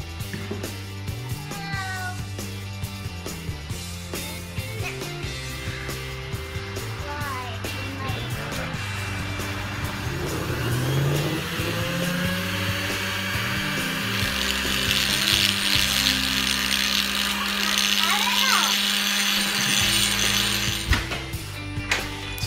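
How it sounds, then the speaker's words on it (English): A 1x30 belt grinder grinds a bevel on a small knife blade made from a lawnmower blade, giving a steady mechanical whir with repeated ratcheting, rhythmic contact noise and shifting pitch as the blade is worked. "I still need a little practice on using a belt grinder to create nice smooth bevels"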